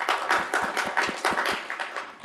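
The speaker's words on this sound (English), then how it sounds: "Let's have a round of applause for TI." A small audience at an IEEE technical lecture claps for the sponsor Texas Instruments, producing a light, moderately paced round of applause with distinct individual hand claps, fairly quiet and brief.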